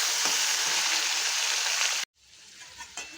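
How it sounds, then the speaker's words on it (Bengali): Potatoes frying in oil in a pan, loud steady sizzling for about two seconds that cuts off abruptly, followed by quieter kitchen clatter. "আলুটাকে আগে ভেজে নেব।"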